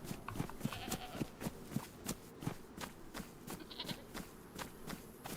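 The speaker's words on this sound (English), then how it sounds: "A whole herd of goats." A herd of goats in the video game DayZ bleats repeatedly, the calls overlapping with soft footsteps amid a quiet background.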